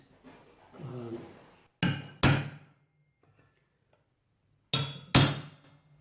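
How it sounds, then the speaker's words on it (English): A hammer strikes a punch made from an old file to reseat small brass lugs on an old Union rim lock, two sharp metallic taps in quick succession, then a pause and two more, close and loud, after a brief low voice. "I'm just going to use this little punch that I made out of an old file just to reseat"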